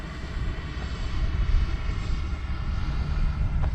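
An RC L-39 model jet flies overhead, making a steady whining engine roar at moderate distance that holds continuous without a break.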